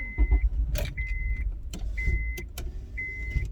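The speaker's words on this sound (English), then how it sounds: "Let me stop my car real quick." A car is brought to a stop and switched off, with a low engine rumble, clicks and a repeating electronic chime sounding at steady intervals.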